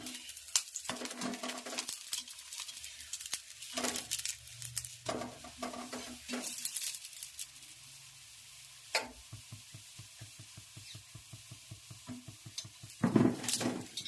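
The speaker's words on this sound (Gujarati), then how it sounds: "ચોખ્ખા ઘીમાં ભાખરી બની રહી છે" Bhakri flatbread sizzles and crackles in hot ghee up close, broken by occasional scraping and clinks of a utensil against the pan.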